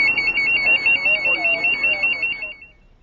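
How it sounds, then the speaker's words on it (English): Firefighter personal alert safety system alarm sounding as a steady, loud, high-pitched warbling electronic tone that stops near the end, with low talk or background noise underneath. "All firefighters now wear personal alert safety systems, an alarm they can activate if they're in distress."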